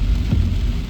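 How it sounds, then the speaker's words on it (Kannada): Light drizzle falls in the hill forest near Madikeri in Coorg, a short, dense hiss of rain layered over a low, steady rumble, with no voices. "ಮಳೆ ಸ್ಟಾರ್ಟ್ ಆಗಿಬಿಡ್ತು ಫುಲ್ಲು. ಈ ಜಿಟಿ ಹನಿ ಮಳೆ,"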